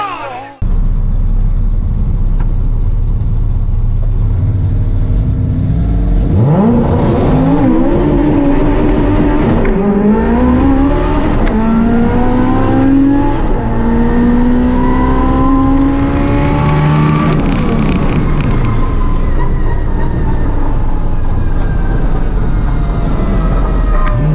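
An AWD Integra makes a drag racing pass in a loud, close engine roar that climbs through rising revs and gear changes over about twenty seconds of constant noise.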